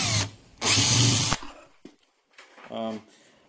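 A power drill whines in short bursts, one long run into scrap timber while building beehives, then quieter tool noise and a brief voice near the end.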